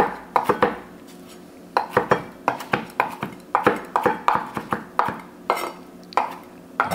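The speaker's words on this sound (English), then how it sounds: "mint, so I'm just gonna crumble it up. Give it a little chop." Mint being chopped with a knife on a board, a run of sharp, irregular blade taps in quick bursts with brief pauses, close and crisp, with no talk.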